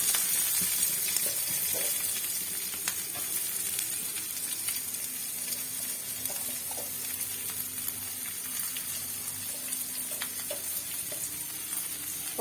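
Tempering seeds, a local vadiyalu mix, for gongura pachadi sizzling in hot oil in a pan: a steady close crackle and hiss with occasional stirring clicks, running continuously without talk.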